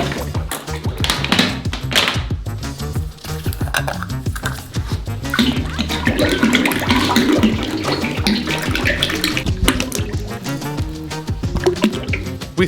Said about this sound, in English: Pour it into the cauldron.